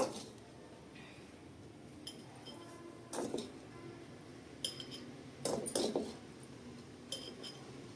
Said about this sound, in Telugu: రొయ్యల పచ్చడి ఇందులో వేసేద్దాము ఇప్పుడు